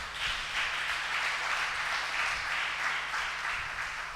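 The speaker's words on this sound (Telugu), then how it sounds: "చప్పట్లు కొట్టిన ప్రభుకి." An audience at a church sermon claps together in sustained applause, a dense, even patter of many hands that stays fairly loud across the whole stretch with no speech over it.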